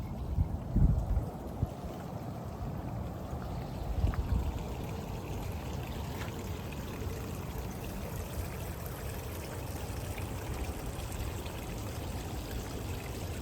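Water swirling down a newly installed stormwater drain in a small whirlpool, a continuous low gurgling rush with a few louder splashes early on, heard close and fairly quiet with no talk.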